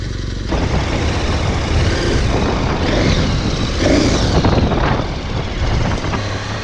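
Big adventure motorcycles such as a BMW R1200GS, KTM 1290 Super Adventure or Triumph Tiger 1200 ridden off-road on spoked wheels, a steady loud engine drone with wind rush, rising and falling as throttle changes.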